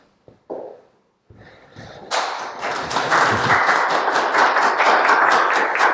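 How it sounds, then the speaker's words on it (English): Clapping at the close of an Alexander Technique session on stress: quiet at first, then from about two seconds in it swells into steady, dense applause that holds to the end. "The claps are for you."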